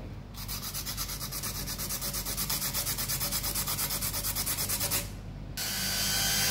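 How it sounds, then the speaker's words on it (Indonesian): Rapid, rhythmic rasping strokes of coarse sandpaper scrub back and forth up close, steady and even, then give way to a smoother continuous scraping. "pakai amplas yang kasar"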